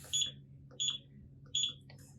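A BTG watch sounds its alert tone as three short, shrill electronic beeps evenly spaced about two-thirds of a second apart, close and clear over a quiet background.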